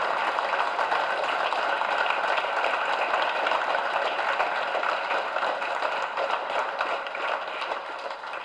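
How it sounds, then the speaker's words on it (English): An audience at a school dedication ceremony gives a speaker a steady, sustained round of dense applause, many hands clapping continuously and evenly for several seconds before tapering slightly at the end. "I think we all owe him a big round of applause"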